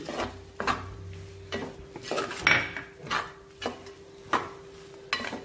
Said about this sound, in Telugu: ఇప్పుడు ఈ పచ్చి కొబ్బరిని కూడా కలుపుకుంటూ బాగా మిక్స్ అయ్యే విధంగా ఒక 2 నిమిషాలు దీన్ని కూడా ఫ్రై చేసుకోవాలి.